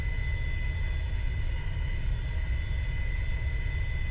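A flight simulator game airplane engine at takeoff, a continuous deep rumbling drone with a steady higher tone above it, even in loudness throughout.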